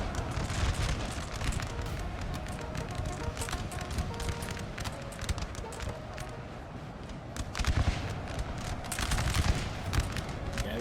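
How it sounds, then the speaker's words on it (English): Musket volleys crackle across a Napoleon Total War battlefield, dense overlapping gunfire in ragged bursts with distant booms, steady and continuous with swells of louder firing near the end, no speech. "These guys here are being shot in the back."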